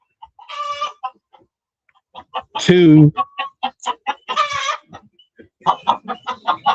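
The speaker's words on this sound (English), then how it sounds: "We got 11 birds in here." Eleven chickens clucking inside a chicken coop, with busy, close bursts of clucks and one loud crow-like call. A person speaks briefly between them.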